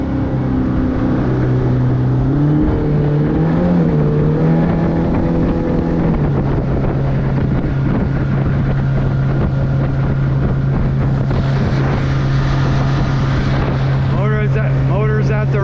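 A Yamaha F115 outboard motor running at speed on a 1996 Jetcraft 18-foot center-console boat, a steady loud engine drone mixed with wind buffeting and water rush throughout.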